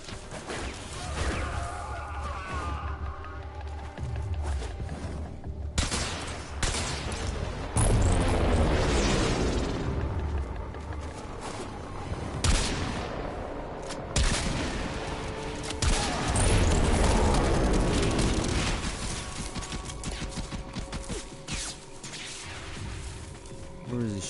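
Gunfire in Warframe. Repeated sharp shots and booming impacts hit in clusters over a steady layer of game noise and music, with some louder blasts in the middle stretch.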